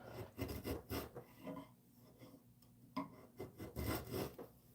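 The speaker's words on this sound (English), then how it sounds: "No power tools. Just some patience, a knife, and some chiseling." Rhythmic rasping strokes of a knife shaving mahogany for a cane, in bursts of scraping with a short quieter pause midway, close and clear.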